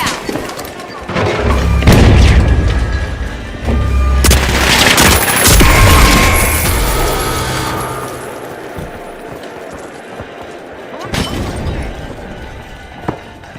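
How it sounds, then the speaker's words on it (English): Heavy booming explosions and gunfire from a video game firefight, with a loud frag grenade blast among repeated thumps and bursts over about thirteen seconds, under faint voices. "Frag out!"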